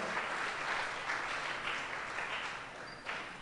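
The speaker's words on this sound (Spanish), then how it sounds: "démosle un aplauso a nuestro experto en esta mañana" An audience applauding, a dense, even wash of clapping hands that holds steady for a few seconds without talk.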